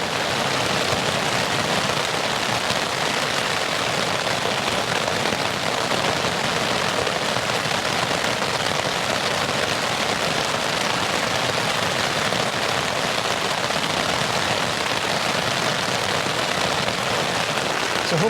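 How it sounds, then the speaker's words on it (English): Torrential rain pounds a Vango Banshee 200 tent at a coastal wild camp, a dense, unbroken roar of drops on fabric that stays loud and even throughout. "an extremely heavy downpour at the minute"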